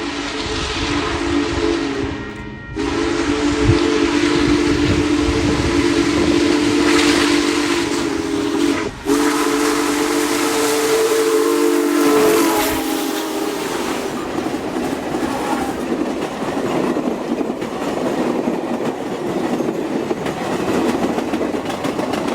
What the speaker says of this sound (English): At College Station, 4014 shook the ground as he gained track speed through South Wade Siding.